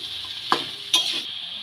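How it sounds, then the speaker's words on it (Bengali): Peas and vegetables are stirred in a pan for veg spring rolls, giving a soft steady sizzle with two brief scraping strokes of the spoon, close and alone. "মটরশুঁটিগুলোও দিয়ে দিলাম। খুব ভালো করে নেড়ে নেব।"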